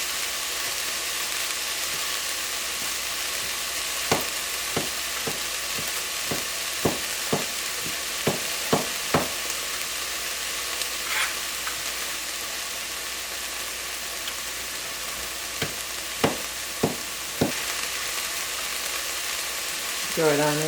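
Chopped garlic and onion frying in a pan for tomato sauce, with a steady loud sizzle throughout and occasional light clicks and taps of stirring scattered over it.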